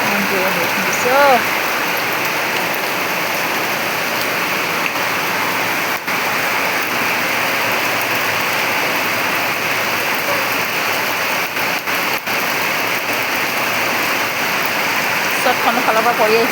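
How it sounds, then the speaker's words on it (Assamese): Heavy rain pouring down in a dense, constant loud roar of drops hitting surfaces, continuous throughout. "ইমান জোৰে বৰষুণ দিছে ঐ।"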